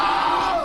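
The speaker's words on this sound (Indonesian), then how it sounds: "maka dia hanya bisa berteriak" A man screaming in a film, one sustained loud cry that cuts off abruptly after under a second.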